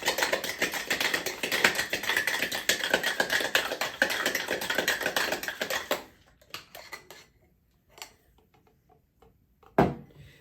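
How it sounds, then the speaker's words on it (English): A cherry whiskey smash is shaken hard with ice in a metal cocktail tin, producing a dense, rapid rattling that runs steadily for about six seconds, then stops, followed by a few scattered knocks and clinks. "And give this a really good shake."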